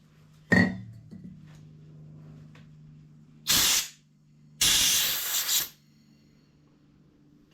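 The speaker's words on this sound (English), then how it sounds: "So again, I'm going to clean that out with brake cleaner." Brake cleaner is sprayed onto the stripped rear shock mount of a GL1200 motorcycle in two loud hissing bursts, the second one longer. A sharp metallic clink comes first, and no one speaks.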